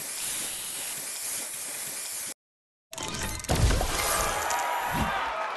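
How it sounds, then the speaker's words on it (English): A spray booster effect in the Match Masters puzzle game gives a loud hissing, spraying burst, then a short silence, then a stronger fizzing rush with a few low thumps. "Spray on."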